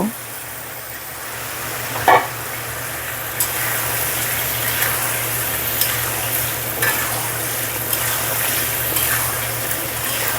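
Taro pieces being sautéed in a pan with spices for a taro, eggplant and pangas fish curry; a loud, continuous sizzle with occasional scraping stirs and clatters, no speech.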